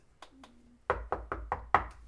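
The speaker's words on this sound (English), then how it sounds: "knock on her door." Knocking on a bedroom door: two light taps, then five heavier, evenly spaced knocks that are close and solid, with a faint short tone between them and no talk.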